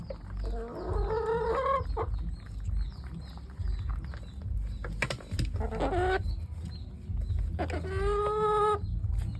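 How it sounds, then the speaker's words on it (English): Backyard farm chickens cluck in short, bright bursts while eating corn, with a few louder squawks over a low background rumble. "Chickens love their corn."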